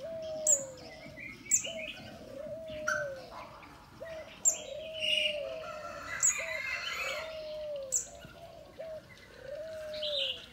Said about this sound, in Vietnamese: mọi người nghe chim kêu